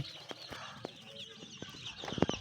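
Young Aseel chicks in a poultry farm peep and cluck faintly in a steady background chatter, with a few louder clucks near the end; no talking.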